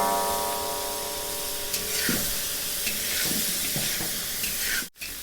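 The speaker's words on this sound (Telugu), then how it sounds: "ఇలా 5 నిమిషాల పాటు అయితే మనం వీటిని ఫ్రై చేయాలి." Cashews and paneer fry in a pan with a loud, steady hiss and sizzle, broken by a few soft stirring clicks, before a short sudden cut near the end.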